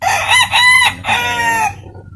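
A rooster crows loudly and close by, one long cock-a-doodle-doo call with a rising start and a drawn-out ending.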